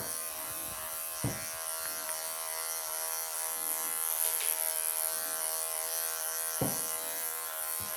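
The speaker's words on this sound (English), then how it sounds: "Just even a bit for the belly clipper" An electric clipper buzzes steadily while clipping a Ragdoll cat's belly, a thin high whine with faint harmonic hum and a few soft bumps and handling knocks against the fur.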